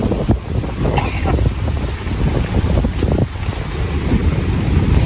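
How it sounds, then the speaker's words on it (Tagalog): Big ocean waves crash and wash under steady wind buffeting the microphone at sea during an octopus-catching trip, a loud continuous roar with surges of surf throughout. "Grabe yung lalaki ng alon."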